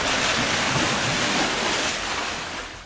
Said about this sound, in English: the usually calm waters of this remote cave pool began to surge, creating waves up to 4 feet high